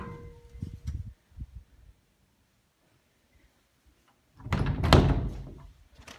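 Double closet doors for coats in a house being moved, with a few soft knocks and clicks early, a near-silent pause, then a louder thudding rattle and closing thunk near the end.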